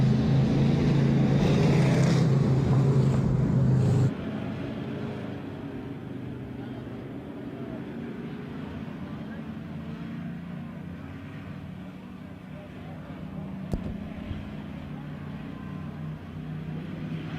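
Street Stock cars roar through a heat race at Emo Speedway, a loud engine drone for the first few seconds that drops to a steady, quieter rumble of racing engines continuing throughout.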